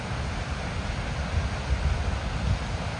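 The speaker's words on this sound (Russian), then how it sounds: "Водопад." A waterfall seen from across the water near the sea on a misty day gives off a loud, steady rushing roar, dense and low-heavy, with slight swells in level and nobody speaking.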